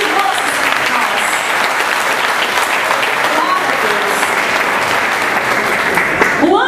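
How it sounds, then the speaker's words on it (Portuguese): A church congregation claps steadily, a close, dense wash of applause from many hands, while scattered voices and cheers rise through it. "Pode aplaudir, porque é maravilhoso para nós"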